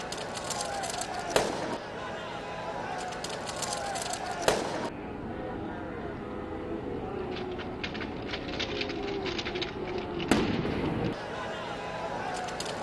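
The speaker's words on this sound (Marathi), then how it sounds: "सलामी देण्यासाठी बंदूक लोड करताना मिसफायर झालेला आहे।" A police rifle fires during a funeral gun salute for Ajit Pawar, with loud sharp reports standing out over a steady outdoor crowd and ambient noise.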